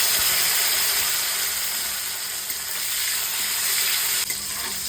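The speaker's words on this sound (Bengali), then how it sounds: "এইবার দিয়ে দেব টমেটো কুচিগুলো।" Chopped tomatoes fry in a pan of hot spiced oil while cabbage curry is being cooked. The hiss is dense, steady and close, broken only by a couple of faint utensil clicks, with no speech.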